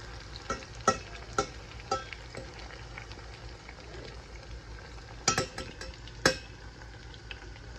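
Steady oil sizzle from chicken frying, with occasional sharp pops and crackles, fairly close, no voices.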